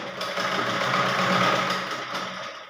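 Sewing machine stitching the neck of a blouse, a fast steady whirring run that rises and then slows, close and alone.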